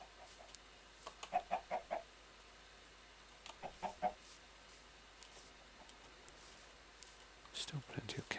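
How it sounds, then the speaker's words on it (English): Chickens in the video game Horizons: Daybreaker give a few soft, scattered clucks in short bursts, faint and sitting under quiet talk. "The odd chicken."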